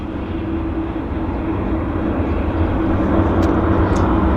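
A WestJet airliner taxis at Vancouver airport with a steady, loud, low jet-engine rumble that holds throughout and no voices.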